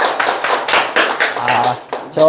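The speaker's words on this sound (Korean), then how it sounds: "박수로 한번 맞아주세요." A small audience of seniors at a welfare center lecture claps in welcome, scattered uneven hand claps in bursts, close and fairly loud, with voices briefly audible near the end.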